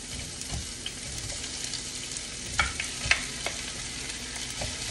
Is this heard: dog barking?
no